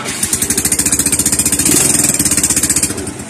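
A starter motor wired directly cranks an engine in a fast, even chugging rhythm, loud and close, holding steady for a few seconds without any voices.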